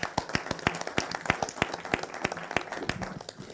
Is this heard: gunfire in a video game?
no